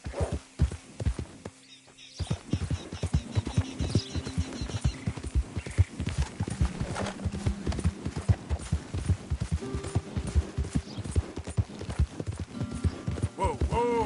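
Horse hooves gallop in Red Dead Redemption 2, a fast, steady clip-clop rhythm close up, with a brief pause early on and faint tack jingles and a low hum underneath.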